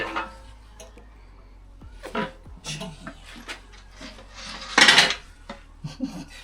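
Loose rocker arms in a Ford Clevor V8 engine rattle and clunk inside as the block is flipped, irregular metallic knocks and clatters with one louder crash, heard up close.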